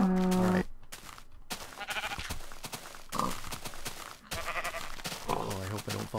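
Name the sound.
sheep bleating in Minecraft video game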